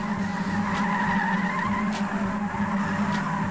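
Car tires squeal in a sustained skid during a slide in Trackmania Sunrise, a steady loud screech over engine roar with no voices.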